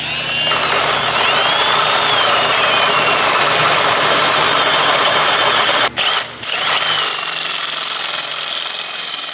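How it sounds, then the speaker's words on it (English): A power drill fitted with a 5/8 bit bores a hole through a steel steering knuckle for a Toyota Tacoma drift truck, a loud continuous whine that stops briefly near the end and then resumes. "For this step, you're gonna need a 5/8 drill bit, and you're just gonna need a drill straight up."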